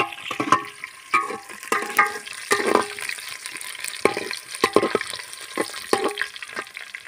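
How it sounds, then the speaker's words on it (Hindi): Onions fry in a pan and are stirred, giving soft sizzling with irregular scrapes and stirring bursts, close up and moderately loud, without speech. "ये मेरा जो प्याज है वो थोड़ा भून लेती हूँ"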